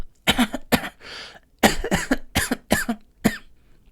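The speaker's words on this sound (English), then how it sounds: "if I cough with a voiced sound" A person demonstrates a cough with a voiced sound: a quick series of about seven sharp, close coughs in uneven rhythm, each carrying an audible vocal tone underneath.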